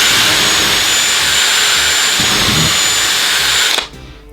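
Metabo SB 18 LTX BL cordless drill boring into hardwood, a steady loud high-pitched motor whine held for several seconds before stopping abruptly, close up and without speech.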